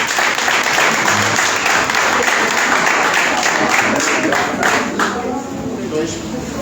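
A church congregation applauds during a pastoral consecration service: loud, sustained clapping from many people, with voices mixed in, easing slightly toward the end.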